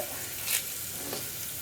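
Onions and spice powders are stirred in a pan for chickpea curry, a brief soft sizzle with a quick scrape of the spoon, close and unaccompanied by speech.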